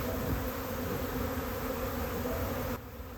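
A swarm of bees flying around a lidded hive box makes a dense, steady buzzing drone. It is close and continuous, eases off slightly near the end, and no one talks.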